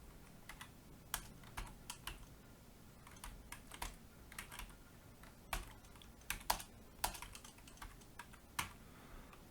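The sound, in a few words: typing on a computer keyboard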